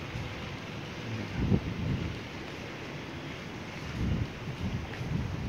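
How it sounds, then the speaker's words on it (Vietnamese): Sea wind sweeps past on Phu Quoc island, Vietnam, on a December morning, heard from a hotel overlooking Duong Dong town. It is a steady, fairly loud rushing roar with a couple of stronger gusts and no talking. "Thấy gió mát lồng lộng luôn nè."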